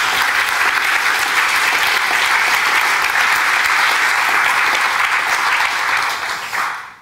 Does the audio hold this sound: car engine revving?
no